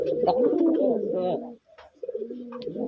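Pigeon, a red-coloured domestic bird, cooing close by in rolling, throaty calls, pausing briefly before resuming, with a few faint background noises.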